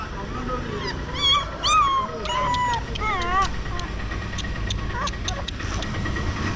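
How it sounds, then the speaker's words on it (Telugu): A small puppy in a village in West Godavari, Andhra Pradesh, gives several thin, wavering whimpers and high yips in the first half, followed by fainter scattered clicks over a steady background. "ఈ స్మాల్ కుక్కపిల్ల ఇక్కడైతే ఉంది."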